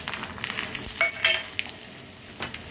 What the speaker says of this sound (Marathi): त्यात सुक्या 2 लाल मिरच्या मी घालते